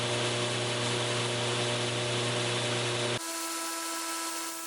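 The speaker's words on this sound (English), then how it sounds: "you can just smooth it out on the belt grinder" Belt grinder smoothing a bevel jig for knife making, a steady loud whirring grind with harsh broadband rasp that cuts down partway through to a quieter hum of the running machine.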